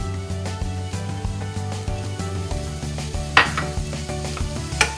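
Mushrooms and onions sauté in a pan for risotto, a steady close sizzle with scraping stirs and a couple of sharper utensil clinks against the pan, no talking.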